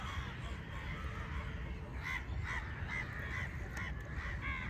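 Birds on a small island in the Ashtamudi backwaters call in a string of faint, distant honking and cawing notes over a steady outdoor hiss.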